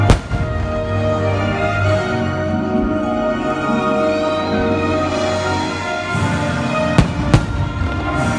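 Fireworks burst over Disney World's Magic Kingdom, a loud, continuous rumble of booming explosions layered with music, capped by a couple of sharp, cracking bangs near the end.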